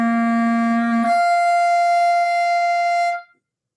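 A clarinet plays a register slur from left-hand C with a low tongue position: a sustained low tone leaps up to a bright upper-register note, held loud and steady before cutting off.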